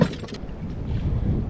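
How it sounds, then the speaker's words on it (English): Strong wind buffets a boat on Castaic Lake, a brief, loud, low rumble against the microphone with a rushing hiss. "the wind just really picked up now"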